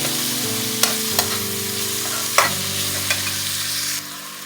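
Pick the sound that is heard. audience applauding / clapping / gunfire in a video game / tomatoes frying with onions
tomatoes frying with onions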